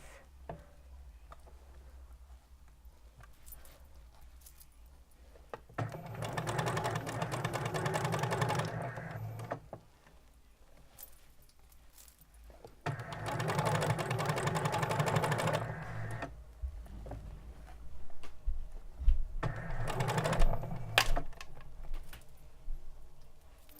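A sewing machine stitches a sleeve cuff in three steady runs of close, fairly loud rapid stitching, with short quiet pauses between them where the fabric is checked.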